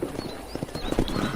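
Horse hooves clip-clop in Red Dead Redemption in a quick, close rhythm of soft thuds at a steady trot, with faint ambient background and no voices.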